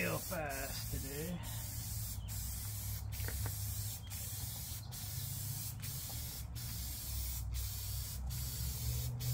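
Continuous hissing spray from a paint gun repainting a riding mower hood runs steadily throughout, broken by short regular pauses, with a voice speaking faintly underneath at the start.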